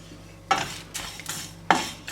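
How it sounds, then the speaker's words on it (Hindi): Whole spices and cashews are dry roasted in a pan for chicken masala powder, producing four or five close, sharp scraping clatters as a spoon stirs them against the metal, with no talking. "और इन तमाम चीज़ों को भी यहाँ पर हमने ड्राई रोस्ट करना है।"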